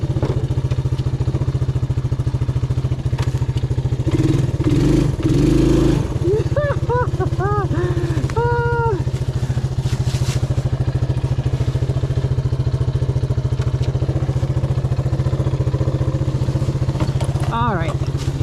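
A 1984 Suzuki LT185 ATV engine drones loud and steady close by, its revs rising during a wheelie attempt. Brief shouted voices and clatter ride over the continuous engine noise.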